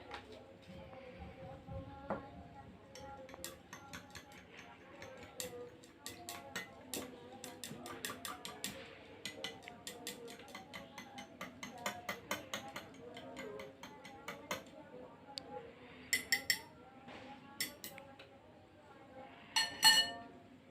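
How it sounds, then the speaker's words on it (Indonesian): Glass rod stirring potassium permanganate solution in a glass vessel, with quiet repeated clinks and light ticking taps scattered irregularly throughout, faint and close, while a person speaks over it. "Kita aduk larutan PK sampai benar-benar homogen ya."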